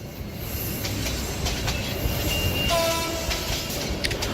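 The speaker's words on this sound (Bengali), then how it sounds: "হঠাৎ হুইসেলের আওয়াজে হকচকিয়ে উঠলাম। উঠতেই দেখি ট্রেনটি দাঁড়িয়ে আছে।" A cartoon-style train sound effect: a steady, close rumble and clatter of a train pulling in, with a whistle tone partway through and wheel squeals toward the end, and no voices.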